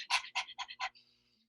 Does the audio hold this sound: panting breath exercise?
yes